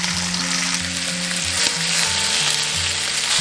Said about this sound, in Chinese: 煎至2面定型过后，就可以下入螃蟹